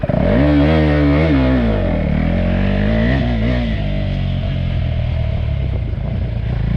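KTM 390 Adventure motorcycle on stock tyres and cast rims ridden off-road in wet conditions, its single-cylinder engine loud and close, revving and pulling through a tall first gear with shifting pitch, no talk.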